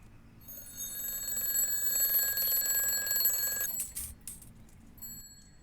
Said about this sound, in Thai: เสียงนาฬิกาปลุกในตอนเจ็ดโมงเช้า